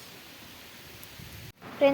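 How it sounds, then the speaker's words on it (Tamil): Heavy rain pours steadily at a Kodaikanal hill resort, a dense broadband hiss that cuts out abruptly near the end before a brief louder tonal sound. "பார்த்தீங்கன்னா தெரியும் எப்படி மழை பெய்யுதுன்னு."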